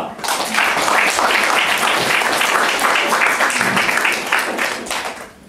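Sustained applause from an audience at a literary contest award ceremony in Olsztyn as a prose category honoree is announced, dense and steady for several seconds before fading out near the end.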